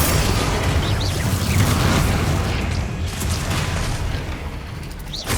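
A Bombarda explosion spell from the Hogwarts Legacy video game produces a deep, sustained booming rumble with crackling bursts, loud and dense throughout.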